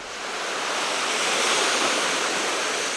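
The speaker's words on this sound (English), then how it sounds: "just watching the water and listening to the waves" Ocean waves washing against the cliffs of the Lires coast, a steady, loud broadband roar of surf that swells gently, with no voices.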